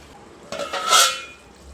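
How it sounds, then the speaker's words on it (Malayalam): A spoon scrapes and clinks against a pan while stirring chicken curry, a single brief metallic stir rising and fading over about a second with no talk. "വീണ്ടും ഇതൊന്ന് ഇളക്കി കൊടുക്കാം"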